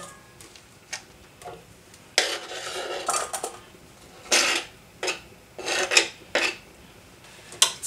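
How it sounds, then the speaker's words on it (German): Chopped salami is moved into a bowl while a low-carb pizza bake is prepared, with a series of brisk scraping and clinking bursts, some short and some drawn out, close by and with no talking. "meine Salami ist schon klein geschnitten, gebe ich mir jetzt in eine Schüssel rein"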